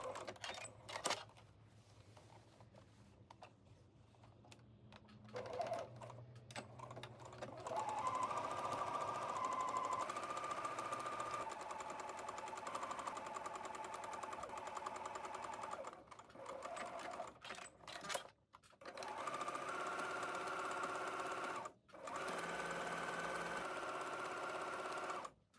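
A sewing machine topstitches the seams of a fitted skirt with a kick pleat, running in long steady buzzing bursts broken by short pauses and restarts, close and alone, with no talk.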